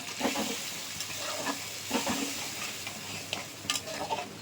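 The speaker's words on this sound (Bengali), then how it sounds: "এবার পেস্ট করা মশলাটা দিয়ে দিলাম, আদা পেঁয়াজ টমেটো আর কিছু গুঁড়ো মশলা এর মধ্যে মিক্স করে ভিজিয়ে রেখেছিলাম, ওটাও দিয়ে দিলাম।" Spice paste of ginger, onion and tomato with ground spices frying in a pan, a steady close sizzle broken by scraping stirs and light utensil knocks, no voices.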